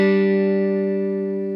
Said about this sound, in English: playing a D and hearing it as a fifth.